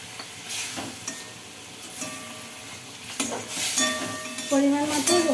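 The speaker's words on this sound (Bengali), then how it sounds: "মশলাটাকে ভালো করে কষিয়ে নিচ্ছি।" A turmeric spice paste sizzles and fries in a pan for a rohu fish curry while a spoon stirs it, giving a continuous crackle with bursts of scraping and stirring noise.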